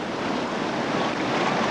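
Whitewater river rapids rushing at Lower Keeny, a steady loud broadband roar of churning water and waves with wind noise, continuous with no talk.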